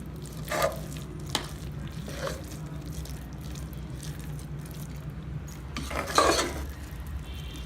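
Wheat rava (samba rava) pongal being stirred with ghee seasoning in a pot: a few scraping clinks of a spoon against the metal, sharper scrapes near the end over a low steady hum, no talking.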